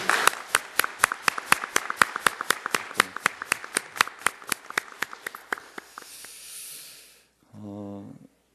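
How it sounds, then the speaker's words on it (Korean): A church congregation claps in unison during a Sunday worship service, about two dozen sharp, evenly spaced claps that slowly quicken before stopping, followed by a brief hiss and a short low hum. "우리 호산나 찬양의 격려의 박수로 한번 같이 박수하겠습니다"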